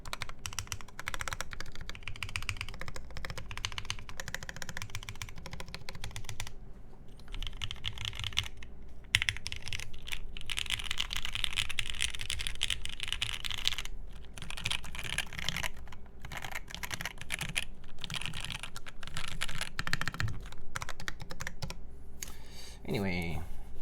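A custom mechanical keyboard being typed on in rapid, continuous clacking bursts with brief pauses, close and fairly loud, and a voice talking now and then over the keystrokes.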